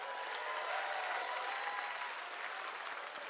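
Steady, dense applause from an audience at a summer cosplay contest prize giving, a continuous clapping wash that holds at an even level without pauses or voices rising above it.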